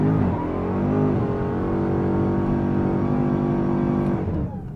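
A Dodge Charger Hellcat King Daytona doing a burnout with traction control off: loud, close, sustained engine roar that climbs in pitch and holds steady before easing off at the end.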